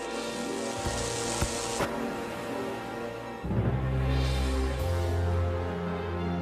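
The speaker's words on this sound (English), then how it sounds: "Salty and Fergus were fighting their way through the wind and rain" Stormy rain and wind, a rushing, hissing wash that swells and shifts, with a low rumbling surge about midway that stays heavy to the end.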